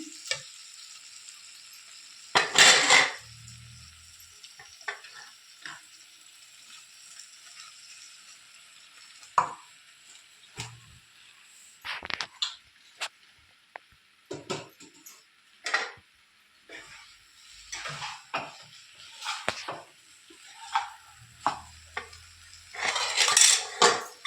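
A tomato curry with coriander powder is stirred in a pan, the spoon scraping and clinking against the metal in irregular bursts over a soft, steady sizzle, with a few louder knocks near the start and end.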